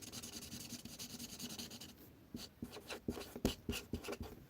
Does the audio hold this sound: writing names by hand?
yes